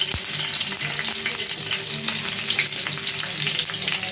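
Dried red chillies, curry leaves and tempering spices such as cumin, chana dal and mustard seeds sizzle and crackle in hot oil, a loud, steady frying hiss with sharp pops scattered throughout.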